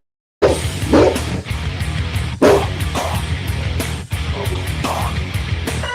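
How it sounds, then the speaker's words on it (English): A puppy named Grim barks among older dogs, in several short bursts spread over a few seconds, loud and close, with no one talking. "There's the puppy."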